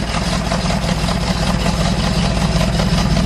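A car engine fitted with an MSD ignition system idles steadily, giving a continuous low, throbbing rumble with a slightly uneven pulse throughout and no talking.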